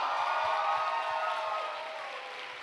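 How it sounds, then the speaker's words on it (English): A show audience gives a steady, moderately distant round of applause, an even wash of clapping that eases slightly toward the end. "let's give another big round of applause for the show"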